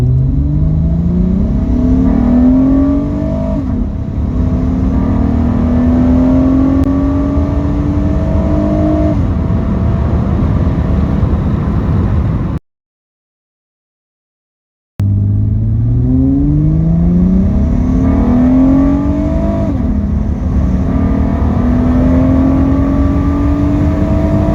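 A 2008 Acura MDX V6 with a J-pipe exhaust runs loud and close, its raspy note rising and falling through repeated revs, with a brief silent gap midway before the engine sound resumes.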